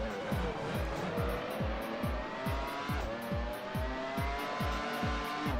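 A Formula 1 race car from an early-2000s racing video game sustains a steady, loud engine drone. Repeated downshift blips and tyre squeals come through at a quick, regular rhythm, with no voices over them.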